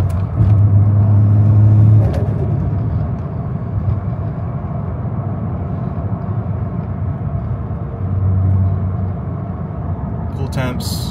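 A Toyota JZX100 Mark II engine accelerating in fifth gear, a steady, loud rumbling drone heard from inside the car, with a brief rise in engine tone near the start and again around eight seconds.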